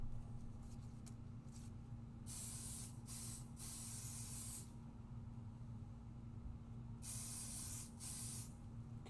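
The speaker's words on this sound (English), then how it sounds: "I'm going to use a little bit of Pixie spray just because this is a much more open stencil" Several short bursts of aerosol Pixie spray hiss in quick succession through an open stencil, then longer sprays, close by over a low steady hum.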